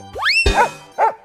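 A dog gives a few short barks in quick succession, close and fairly loud, with each bark sharp and clipped and a brief pause before the last one.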